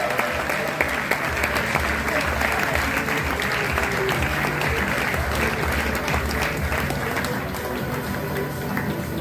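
A graduation ceremony audience claps loudly for a top data science graduate, a dense, steady wall of applause that runs unbroken throughout, with faint voices and murmurs underneath.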